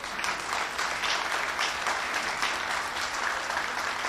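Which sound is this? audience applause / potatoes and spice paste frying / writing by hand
audience applause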